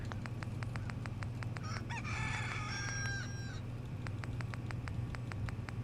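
A rooster crows once in the Fallout 4 Sim Settlements game, a loud drawn-out call rising over a steady low hum and a regular ticking pulse that runs through the whole stretch.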